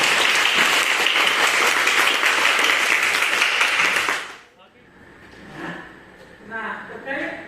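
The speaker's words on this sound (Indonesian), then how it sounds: "berikan aplaus dulu" A classroom breaks into loud, dense applause that fills the first four seconds, then stops abruptly, leaving faint room noise and some soft talking.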